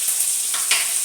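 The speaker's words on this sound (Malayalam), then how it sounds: "കറിവേപ്പില ഇടുന്നു" Curry leaves hit hot oil in a pan where mustard seeds are already popping, giving a steady close sizzle with a brief louder crackle burst partway through, heard alone for one second.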